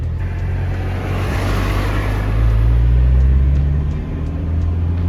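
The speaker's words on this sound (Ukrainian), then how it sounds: "Ми з Маратом виїжджаємо таксувати." A taxi car pulls away at four in the morning, a steady low engine rumble that swells as it accelerates around the middle, then settles into an even drone with no talk.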